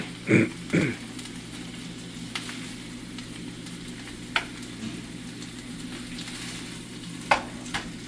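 Ground meat browns in a pan, giving a faint, steady sizzle with a few soft scrapes and taps of a utensil at the start and scattered through.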